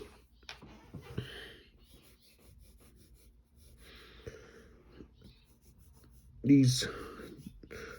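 A pencil draws lightly on paper in soft scratchy strokes, with short pauses between them and a faint breath, ending in a louder rubbing swipe.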